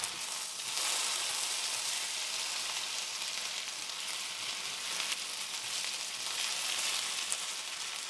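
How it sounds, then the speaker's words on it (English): Gluten-free potatoes fry steadily in a pan, giving off a dense, continuous sizzle that stays close and even for the whole stretch with no talking. "our potatoes have been frying a total of about 20 minutes"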